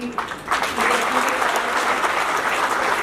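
An audience breaks into steady, dense applause at an indoor ceremony, the clapping swelling after a brief start and holding loud and even to the end.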